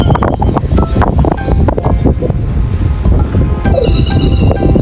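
Gusty wind buffets the microphone continuously, producing loud rumbling bursts with faint rustling in the background.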